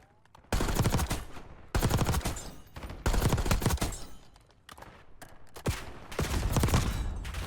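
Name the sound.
gunfire from a rifle with vertical foregrip in a video game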